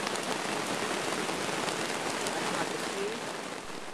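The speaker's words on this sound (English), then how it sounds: "as the rain becomes torrential" Torrential rain pours down on a forest camp in Cambodia, a loud, dense, unbroken hiss of heavy drops drumming steadily throughout.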